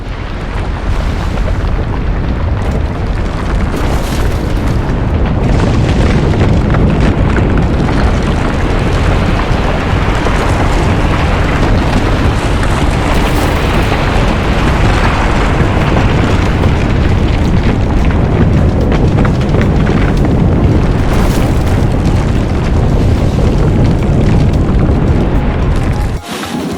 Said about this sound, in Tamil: நிலநடுக்கம்,